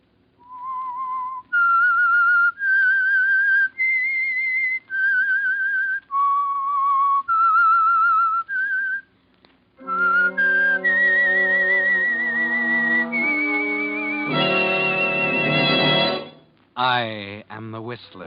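A clear whistled melody of sustained notes with small pauses, the opening theme signal of the radio drama The Whistler, followed by an orchestral sting of rich, swelling tones that ends in a wavering flourish.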